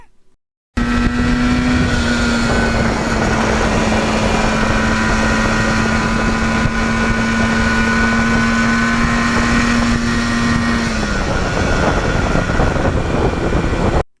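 A 1977 Yamaha RD400 two-stroke motorcycle engine with stock exhaust runs steadily nearby with a smooth, even drone, holding pitch for several seconds before the tone drops near the end.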